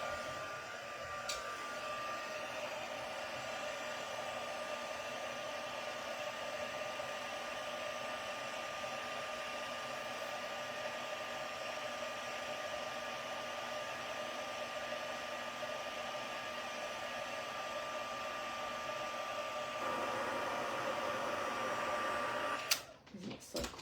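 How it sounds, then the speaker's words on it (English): An embossing heat tool is melting embossing powder on a card. Its fan gives a steady, close whir like a hair dryer that holds for nearly the whole stretch, then cuts off with a short clatter at the end. "we will just get the heat tool out and emboss that now as well."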